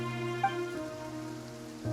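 Steady rain falls in the video game Genshin Impact, a continuous soft patter on surfaces with a low tonal music bed and a couple of faint chimes.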